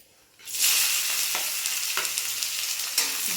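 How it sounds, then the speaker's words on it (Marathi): Chopped onion hits hot oil already holding cardamom, cinnamon and asafoetida, bursting into a loud, steady sizzle after a short quiet start, with a few sharp stirring scrapes of a spoon in the pan. "कांदा टाकून व्यवस्थित भाजून घेते"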